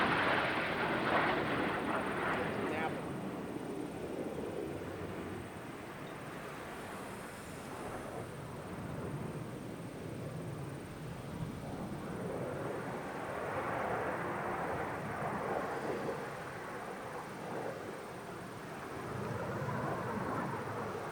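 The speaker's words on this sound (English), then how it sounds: "F-16 just sounds different from the Raptor." USAF Thunderbirds F-16 fighter jets pass at an airshow, a broad roaring jet wash that swells, fades and builds again over about twenty seconds, heard from a distance with no talking.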